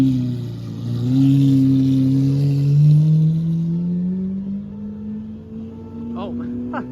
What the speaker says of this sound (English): Car alarm just can't handle the V12.